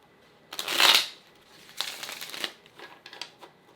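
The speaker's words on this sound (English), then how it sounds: "I'm gonna shuffle the clarification deck" A deck of oracle cards being shuffled close up in a quiet room, with a loud riffling burst followed by several softer shuffling and sliding passes, no voices.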